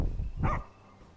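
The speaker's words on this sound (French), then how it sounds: "Ce chien a un flair incroyable." Umbra, a dog in the Final Fantasy XV video game, gives one short bark over low background ambience, then quiet follows.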